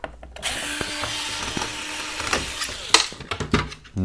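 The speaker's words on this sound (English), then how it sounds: "After unscrew two screws from both sides of the boiler, and we will release it." Screws being driven out with a power tool from the boiler of a Nivona 8-series coffee machine during disassembly, a close whirring buzz with a few sharp clicks and clatters near the end.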